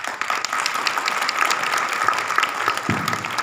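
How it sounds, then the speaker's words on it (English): An audience at a school assembly gives a round of applause, a dense, steady wash of many hands clapping at moderate distance with no speech over it. "give a big round of applause to Avinash"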